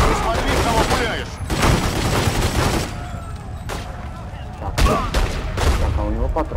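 Gunfire in The Godfather II video game: loud, rapid bursts of shots in several clusters, mixed with someone talking excitedly over the shooting.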